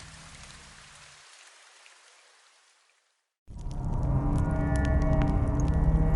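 Steady rain falls, hissing and pattering on surfaces in a village setting at night, first moderately, then fading to near silence before a heavier, louder downpour bursts back in close and continuous.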